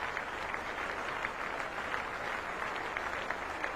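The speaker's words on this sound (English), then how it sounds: "Yes, a lot of applause there for Salim Malik" Cricket crowd at a Kennington Test match between England and Pakistan claps warmly for Salim Malik's century, a steady, even patter of applause from many hands that continues throughout without voices.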